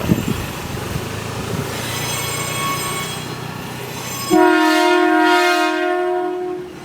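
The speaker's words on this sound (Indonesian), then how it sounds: "itu klakson masih khas dari 7000 ya" A loud, sustained horn from a former Tokyo Metro 7000-series electric commuter train in Jakarta blares partway through, a steady two-tone chord cutting over the rumble and rolling noise of the passing train.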